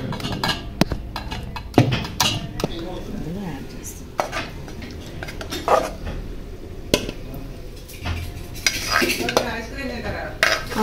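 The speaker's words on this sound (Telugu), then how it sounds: "తాలింపు వేసుకున్న మటన్ కర్రీలో ఇది కలుపుకోవాలి" Ground gongura and green chilli being stirred into a tempered mutton curry, with a spoon clinking and scraping against the pot in irregular bursts, close and fairly loud, with no talking.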